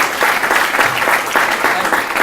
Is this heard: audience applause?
yes